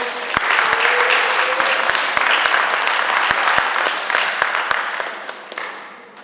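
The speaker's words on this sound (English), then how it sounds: "don't they deserve a round of applause, everyone?" Wedding guests at the speeches give a warm round of applause for the bridesmaids, loud and sustained clapping with a few sharp close claps standing out, gradually thinning toward the end.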